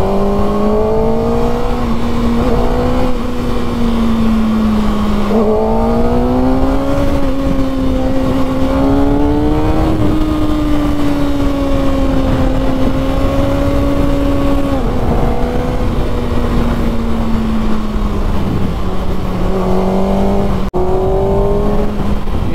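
Kawasaki Ninja ZX6R motorcycle ridden through Bangalore city traffic, its engine loud and close with a steady hum that rises and falls through repeated throttle changes, wind and road noise underneath.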